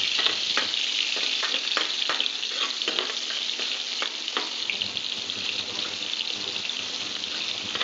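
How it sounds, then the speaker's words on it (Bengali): Green chilies frying in hot oil, a dense, close, steady sizzle with sharp popping crackles scattered through it, stirring at times, with no voices. "এই কাঁচা লঙ্কা তেলে খাওয়ার পর কিন্তু প্রচণ্ড ফাটে"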